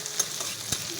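Onions sizzle gently in hot oil just after going into the pan, a soft steady hiss with a couple of brief stirring clicks, quiet and close, with no talking.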